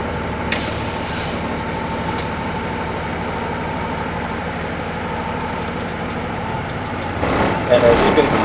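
A truck idling in gear with its trailer brake released during a California CDL air brake test, a steady low diesel rumble with a short hiss near the start and rising engine effort at the end, while someone talks over it.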